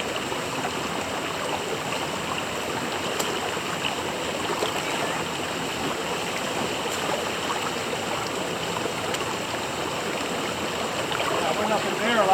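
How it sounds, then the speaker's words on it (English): Steady rushing of a waterfall and stream along the French Creek trail, continuous and broadband at close range, filling the whole stretch without letup; no speech is heard over the flowing water. "You'll see another waterfall."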